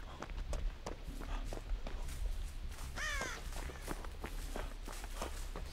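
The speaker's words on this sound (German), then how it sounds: "Ich liebe ja auch Raben." A raven caws once, harsh and fairly clear, midway through, over steady quick footsteps of a running character in the video game Dead by Daylight, with other game ambience low in the background.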